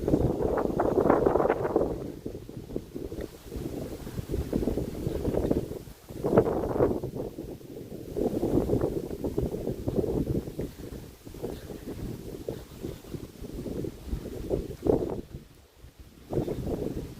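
Strong wind blasting across a microphone outdoors in East Tennessee in fall, rolling gusts of deep roaring rumble with brief lulls between bursts.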